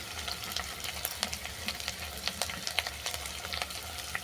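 Spices, onion and tomato stir-fried in a pan for a Bengali fish recipe, with a steady close sizzle and frequent quick scraping taps of a spatula and no talk.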